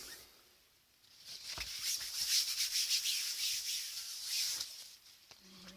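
A faux leather notebook cover is rubbed down by hand, a soft close hissing friction that rises and falls in repeated strokes.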